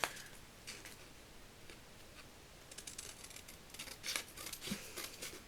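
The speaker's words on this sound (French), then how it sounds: "Je vais couper le plus droit possible." Scissors snip through cardboard for a handmade advent calendar lid, with soft, irregular crisp cuts that cluster and grow busier toward the end, close and quiet.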